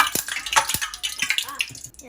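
Mochi frying in oil that bubbles vigorously, with sharp sizzling crackles and spits, clattering utensils and a brief voice mixed in.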